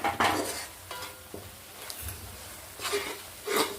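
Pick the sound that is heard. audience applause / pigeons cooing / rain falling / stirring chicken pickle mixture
stirring chicken pickle mixture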